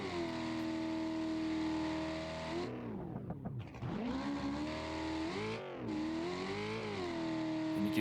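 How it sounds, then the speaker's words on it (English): A baja racing engine in the BeamNG Drive video game, set up for a low-RPM run on an uphill desert section, drones steadily and loud, dipping briefly twice as the revs drop and climb back, with no voices. "you can hear his engine is set up for a pretty low RPM run here"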